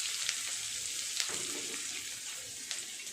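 Garlic paste frying in hot oil with a bay leaf and cumin, a steady close sizzle throughout with a few brief sharper crackles, no voices.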